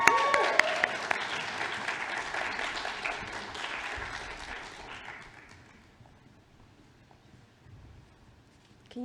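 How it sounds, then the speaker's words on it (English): Applause from the crowd at a volunteering awards ceremony greets an award presenter, loud and dense at first, then thinning and fading away over several seconds into near quiet. "So a massive round of applause for Gemma."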